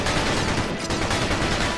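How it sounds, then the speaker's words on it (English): Sustained gunfire from the Battalion Wars video game, a dense, continuous rattle of rapid shots filling the whole moment at steady loudness with no talk over it. "Then press the A button to open fire."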